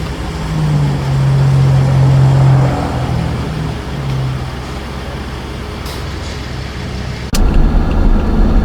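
A 2016 Ford F-150 with a 3.5 V6 idles steadily just after first starting from a dead-engine condition, giving a loud, close, continuous rumble. A brief clunk is followed by a slightly louder stretch near the end.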